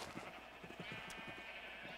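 Sheep bleat in Minecraft, several short, quiet bleats in quick succession with a faint steady background hum.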